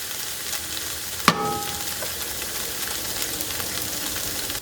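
Onions frying gently in a pan over moderate heat, a steady soft sizzle running throughout with one sharp clack of a utensil against the pan near the start, no voices.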